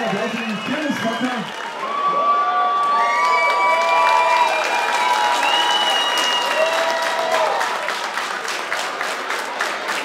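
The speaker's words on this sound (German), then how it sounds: "Ein riesengroßer Applaus für den Kirmesvater." Village fair crowd applauding and cheering for the Kirmesvater, sustained clapping with whistles and shouts, children's voices rising above, loud and lively throughout.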